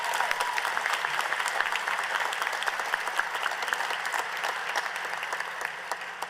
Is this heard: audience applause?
yes